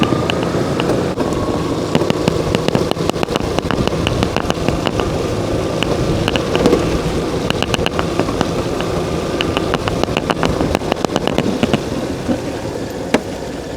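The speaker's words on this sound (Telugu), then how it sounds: "వర్షం అలా కంటిన్యూస్గానే వస్తూనే ఉందండి" Heavy, continuous rain during Cyclone Montha near the Narsapuram and Antarvedi coast, a dense, steady roaring wash broken by sharp, scattered taps of drops striking close surfaces, with no voices.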